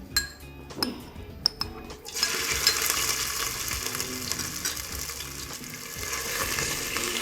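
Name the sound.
ginger garlic paste frying in oil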